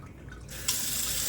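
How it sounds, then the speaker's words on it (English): A reusable damp duster sponge is rinsed under a running kitchen tap. After a brief quiet moment, a steady, close hiss of flowing water cuts in. "you just run it under the water and all the dust particles and dirt that you have collected will run off"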